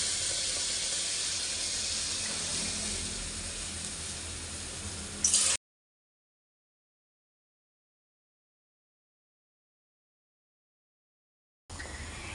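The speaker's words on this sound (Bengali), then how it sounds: "এবার আমি এর মধ্যে সেম বাটির মাপ করে জল দিয়ে দেব 2 বাটি।" Water poured into semolina that has been lightly fried in a pan for a sweet palm rasbora dish, a steady loud hissing sizzle for about five seconds that cuts off, then returns briefly near the end.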